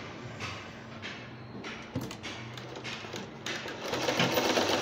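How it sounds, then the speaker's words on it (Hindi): A sewing machine stitches round the edges of a cloth langot diaper for a newborn, its steady whir running through most of the stretch with brief pauses and a slight rise in loudness near the end. "फिर उस कपड़े को रख कर हम पूरी इस तरह राउंड राउंड सिलाई लगाएंगे, सिर्फ 2 इंच छोड़ते हुए सिलाई।"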